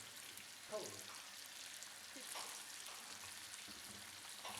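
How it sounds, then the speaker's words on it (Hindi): Chicken for Peshawari charsi karahi fries in a pan with a faint, steady, hissing sizzle throughout and a few soft stirring scrapes. "अच्छे से मिक्स करने के बाद इसे फ्राई करें।"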